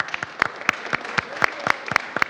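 Scattered claps from a small audience at a Certificate of Honor ceremony, with individual sharp hand claps spaced irregularly and a few louder, nearby claps standing out over a quiet room.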